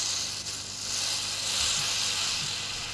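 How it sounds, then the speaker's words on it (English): A bottle-conditioned Dunekeun winter beer foams and fizzes out after opening, a continuous close hiss and crackle of escaping gas lasting the whole stretch. "it just comes fizzing out like it's doing now"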